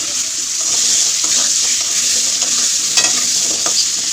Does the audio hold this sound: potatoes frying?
yes